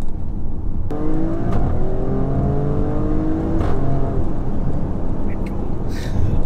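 A widebody Alfa Romeo Stelvio Quadrifoglio accelerates hard on a cambered road, its engine note climbing through the gears in rising sweeps, loud and close over heavy road and wind roar, with a brief shift break midway.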